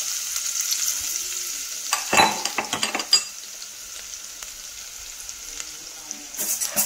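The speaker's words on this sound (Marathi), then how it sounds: "तर आता आपण तेल टाकलेलं आहे. लसूण टाकायचं." Garlic hits hot oil in a pan while fish is being cooked, giving a faint, steady sizzle with a burst of utensil clatter and scraping in the middle and again near the end.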